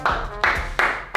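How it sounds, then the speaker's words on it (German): Three or four sharp, even claps sound close by in quick succession as applause for a winner, brief and unaccompanied by a crowd. "Ein Applaus."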